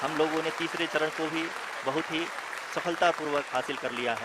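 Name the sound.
applause in the room during the Chandrayaan-3 landing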